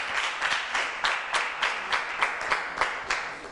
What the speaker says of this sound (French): Des applaudissements pour Pakila.